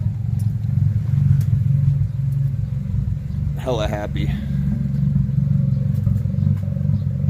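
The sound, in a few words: car engine idling rough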